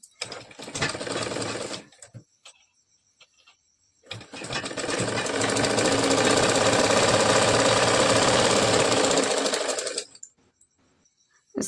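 Sewing machine stitching a hook strip folded half an inch back on a puff-sleeve princess-cut blouse: a short buzzing run, a pause, then a long loud steady whir of the needle for about six seconds before it stops.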